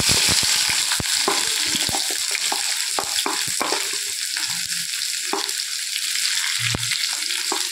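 Chopped onions fry in hot oil with bay leaf and stone flower for a chicken curry, a loud, continuous sizzle up close. Scattered sharp clicks and scrapes of stirring run throughout, with no voices.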